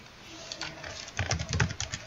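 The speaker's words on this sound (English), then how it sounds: "I'm the one typing" Fingers tap quickly on a computer keyboard nearby, a soft clatter of key presses growing denser and louder partway through, with no voices.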